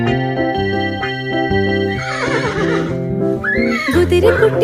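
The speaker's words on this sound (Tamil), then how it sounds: "ஏய் குதிரைக்குட்டி போ" A horse neighs inside a Tamil children's rhyme, a short rising whinny cutting across a bright, steady backing melody and loud, rhythmic music.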